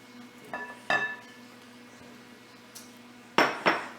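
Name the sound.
adding potatoes to a dish of sauce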